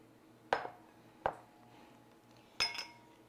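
Three separate clinks of a utensil against a bowl while brownie batter with brown sugar is stirred, each a short sharp knock with quiet pauses between.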